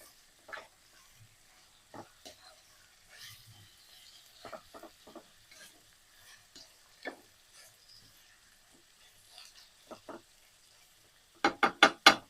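Onions sautéing in sesame oil for an onion pickle, heard as quiet intermittent scrapes and soft clinks of a spoon in a pan, ending in a quick burst of louder rattling knocks.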